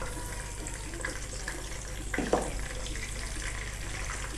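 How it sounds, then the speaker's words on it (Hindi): Garlic fries lightly in a pan with a soft, steady sizzle at low volume, broken midway by a brief clatter. "इनको मैं सबसे पहले मैं लहसुन डालूँगी और इसको मैं करूँगी हल्का सा फ्राई"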